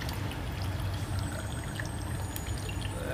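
Sweet and sour mix for an El Diablo cocktail pours in a steady, quiet liquid stream into a glass, an even soft gurgle that runs unbroken with no talking over it.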